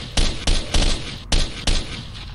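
Bursts of gunfire in the video game Stalker: five loud, sharp shots spaced about a third to half a second apart, each trailing off quickly over a steady background hum, with no voices.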